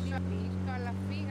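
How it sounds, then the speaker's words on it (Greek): A motorbike engine in a video game holds a steady, buzzing drone with strong low hum tones, and voices talk over it throughout. "Μηχανάκι."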